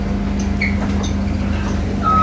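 A Walt Disney World bus motor hums steadily from inside the cabin, with a low constant drone and a faint high tone rising near the end.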